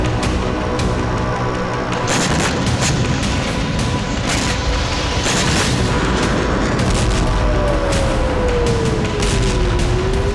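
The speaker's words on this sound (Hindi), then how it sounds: "बेरूत के बाहरी इलाकों पर इसराइल की बमबारी लगातार जारी है" Israeli bombing in southern Lebanon and Beirut's outskirts: loud, dense rumbling booms and sharp blasts fill the scene throughout, with repeated impacts clustering around the middle.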